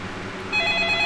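A telephone rings inside a detective video game, an electronic trilling bell that starts about halfway through and repeats steadily at close range over a low background hum, with no one speaking.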